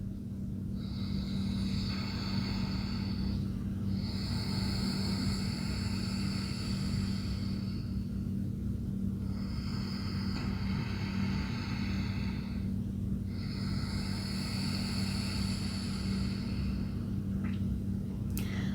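Slow ujjayi ocean breathing through the throat with the mouth closed: four long, soft, hissing breath strokes, each several seconds long, separated by short pauses over a low steady hum.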